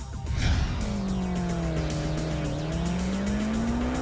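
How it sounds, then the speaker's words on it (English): Race car braking hard on a track, tires squealing in a long sustained screech that bends in pitch over several seconds, loud and close over the engine roar with no talking. "we should be able to brake at the 150 mark, and you should still be able to stop before you run out of track"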